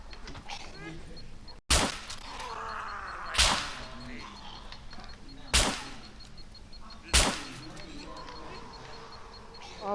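Gunfire in the video game SCUM as players fight zombies: four loud, sharp single shots spaced a couple of seconds apart, with quieter game ambience and faint talk between them.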